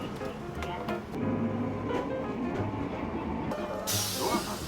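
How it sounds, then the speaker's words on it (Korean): City tram pulling in at a busy street stop in Kumamoto, Japan, with a low rumbling hum and a burst of hissing near the end, while people nearby talk over it. "저희가 탈 트램입니다."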